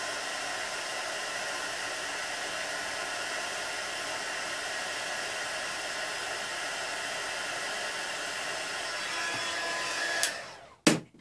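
A heat gun blowing steadily as it heats metal for enameling, a loud even rushing whine that runs unbroken, then cuts off abruptly with a click near the end.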